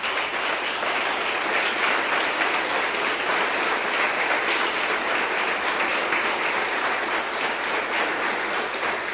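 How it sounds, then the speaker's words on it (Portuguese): A standing church congregation applauds during a sermon, sustained dense clapping at an even, loud level throughout with no break. "Vamos aplaudir a palavra de Deus."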